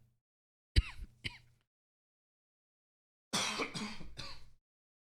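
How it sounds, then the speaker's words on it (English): Two short, sharp coughs, then a pause and a longer rough throat-clearing burst, close and otherwise in silence. "Got a cough."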